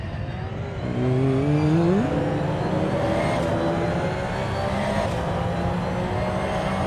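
A race car at the Red Bull Ring in Austria, its engine heard from onboard: a loud revving whine rising through gears early, then a sustained high-pitched drone as it holds speed through turn 3, no talk.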